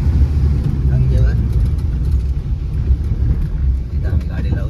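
A car drives along on the way to the Ganges, its steady low engine rumble and road noise filling the whole stretch, loud and close as if heard from inside the vehicle.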